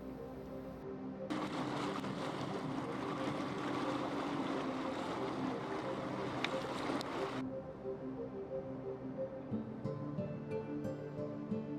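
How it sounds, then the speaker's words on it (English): A large tender boat motors ashore toward a dinghy dock at Two Harbors on Santa Catalina Island, a steady engine drone with water rush, loud for several seconds before easing to a quieter hum. "We take the large tender ashore and tie up at the extensive dinghy dock."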